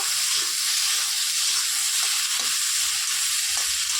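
Potatoes frying in a pan with salt and turmeric, giving a loud, dense, continuous sizzle with no break and no talking.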